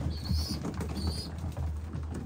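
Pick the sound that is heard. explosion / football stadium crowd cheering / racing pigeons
racing pigeons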